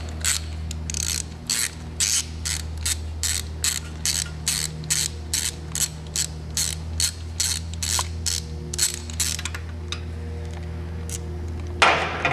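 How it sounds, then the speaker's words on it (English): A plug wrench ratchets a spark plug out of a small engine, a rapid run of sharp, evenly spaced clicks close to the mic that slows and stops near the end, over a steady low hum. "Back the plug out."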